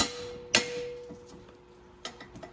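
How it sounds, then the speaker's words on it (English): A thick chisel is struck with a hammer to spread an Öhlins coilover strut clamp on a BMW E90 M3, giving a couple of sharp metallic strikes with ringing tone, then lighter taps, in a quiet garage. "So we have just an extra thick chisel right here, and we'll just try to"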